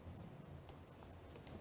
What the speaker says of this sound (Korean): 이때 깜빡이 소리 들리죠?